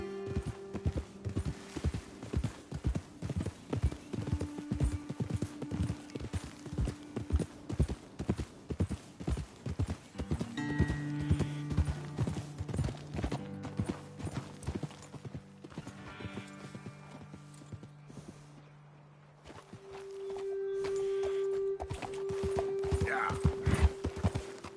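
Horses walk at a steady pace in Red Dead Redemption 2, hooves clip-clopping in a continuous close rhythm for the whole stretch, with game voices and ambient music underneath.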